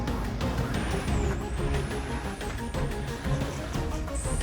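A heavy truck engine rumbles low and steady up close on a muddy dirt road, with a high-pitched whine sliding above it throughout.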